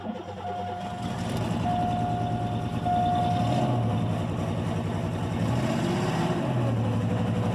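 A 1994 Chevy Corsica V6 engine fires up and runs rough with a steady misfire, loud and close, while a high electronic beep tone comes and goes over the uneven idle.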